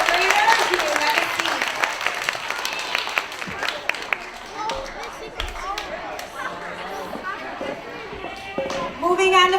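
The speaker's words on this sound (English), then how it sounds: "Can we give them another round of applause?" A school assembly crowd claps in a dense burst at first, then the clapping thins out beneath children's chatter and noisy hall commotion.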